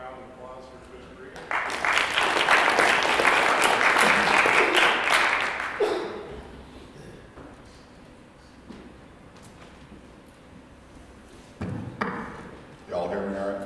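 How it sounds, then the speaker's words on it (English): Seminar audience applauding for a strength and performance coach: a burst of clapping swells for about four seconds, then fades into room noise with a few knocks and a voice speaking near the end. "So give a round of applause for Coach Marie."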